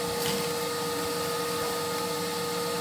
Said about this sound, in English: We're going to put the hoover nozzle, make sure it's tucked in right in there.